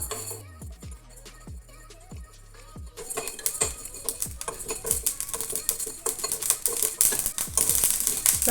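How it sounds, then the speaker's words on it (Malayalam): Sharp, irregular pops and crackles of mustard and fenugreek seeds bursting in hot oil, sparse at first, then quickly growing denser and louder. "ഉലുമി കടുകൊക്കെ വറവായിട്ടുണ്ട് പൊട്ടിത്തെറിക്കുന്നുണ്ട്"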